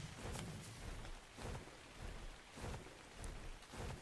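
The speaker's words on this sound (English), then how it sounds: "It's also raining at the same time." Steady rain falls at night in the video game ARK: Survival Evolved, a dense hiss with rhythmic swells of heavier rumbling roughly every second.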